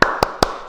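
Three sharp, evenly spaced hand claps ring out in a quick rhythm as children do a 'tepuk semangat' cheer at a Sunday school gathering, each clap crisp and close with a short room tail.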